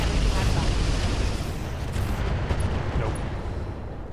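A mech in Roguetech fires standard ammo, a heavy, continuous rumbling barrage of booms that stays loud for several seconds, with a voice faintly present under it.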